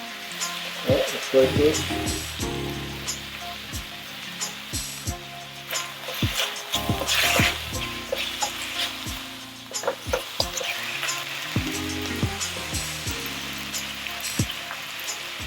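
Ginger chicken stir-fry, Thai gai pad khing, sizzling steadily in a hot pan as sauces go in, a dense crackling hiss with scattered pops and a brief spoken phrase over it.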